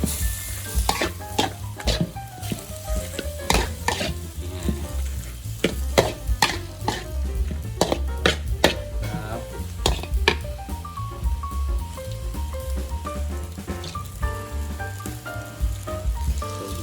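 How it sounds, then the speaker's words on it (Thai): Vegetables and glass noodles stir-fried in a pan for a Thai egg noodle dish, with a steady loud sizzle under repeated scraping, clattering strokes of the spatula throughout, and no talking. "ผัดให้ผักนิดนึงนะครับ"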